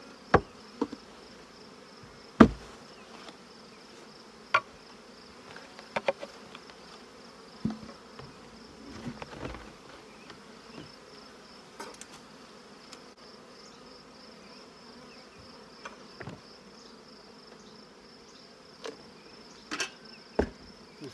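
Honeybees hum in a steady, soft drone around a hive, punctuated by occasional sharp taps and clicks.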